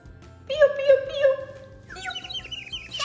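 A small blue bird calls in a children's colour lesson: a voice first mimics the sing-song peeps, then rapid, bright, high chirps and tweets follow close and clear.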